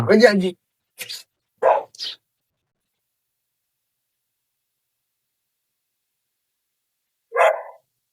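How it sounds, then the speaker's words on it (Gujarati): A neighbour's dog barks a few short times in quick succession, then falls silent before one last bark after a long pause. "બાજુ વાળાનું કૂતરું ભોં"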